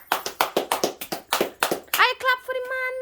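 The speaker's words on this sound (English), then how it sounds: "I clap for the man." A child claps hands in a quick, even run of about ten sharp claps, then breaks into high, sung speech.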